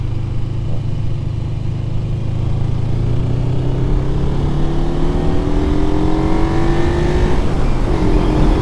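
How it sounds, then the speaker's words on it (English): A motorcycle engine drones steadily, its pitch gradually rising as it revs, with a constant rumble throughout and no voices. "I could hear another bike or something"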